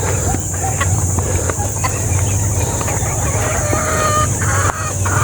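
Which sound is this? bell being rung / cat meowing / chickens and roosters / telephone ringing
chickens and roosters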